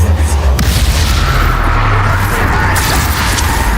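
A heavy, rumbling Bombarda spell explosion from the Hogwarts Legacy video game, a loud low boom that fills the moment and rolls on with sustained bass.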